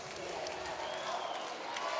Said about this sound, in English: And the crowd is loving it